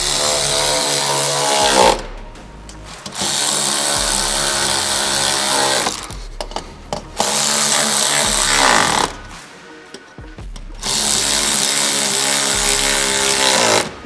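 A power tool drives the 10mm grille bolts on a 2011–2016 Scion xB during a headlight install, whirring loudly and close in three long bursts separated by short pauses, and no voices.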